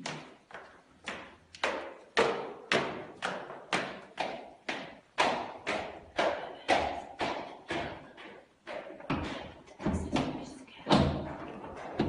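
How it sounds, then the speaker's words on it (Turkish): Someone bangs on a door in a rapid series of heavy thuds, close and loud, in irregular bursts that continue steadily for over ten seconds. "Tamam, bekleyin, kırmayın kapıyı."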